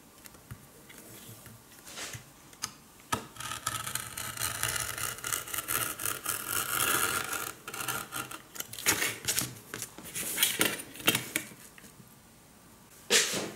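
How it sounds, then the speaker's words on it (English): A strip of vinyl, 2 inches wide and 15 inches long, being cut down its ruled center line: a long, close, continuous crunchy slicing sound scattered with sharp clicks, heard alone. "I've got vinyl that's 2 inches wide by 15 inches long with a line ruled down the center. And I'm just going to cut down that center."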